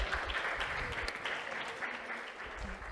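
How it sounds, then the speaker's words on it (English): An audience applauds at a Sunday feast class, a dense, even burst of clapping filling the room for about three seconds. "Let's give her another round of applause."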